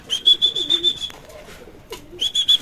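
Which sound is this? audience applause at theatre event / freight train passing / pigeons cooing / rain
pigeons cooing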